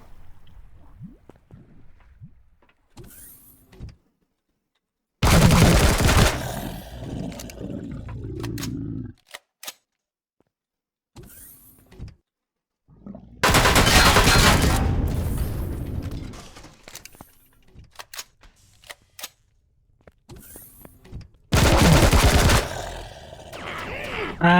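Enemy gunfire in the space survival game Empyrion Reforged Eden 2 at a Zirax location, heard as three loud, sustained bursts of firing a few seconds apart, with quieter gaps and faint game sounds between them.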